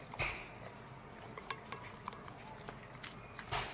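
A thick aloe vera gel face pack is mixed in a small bowl, with faint scraping and tapping of a spoon against the bowl in quiet, irregular strokes.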